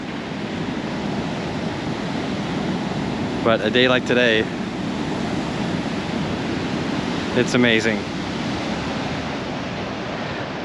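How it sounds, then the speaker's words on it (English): Big, rough ocean waves pound the Oregon coast during a king tide, a steady loud roar of surf close by with wind noise, while a person talks briefly over it twice. "watch the big giant waves"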